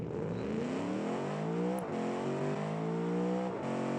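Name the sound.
Cadillac CTS-V wagon launching down drag strip, BeamNG video game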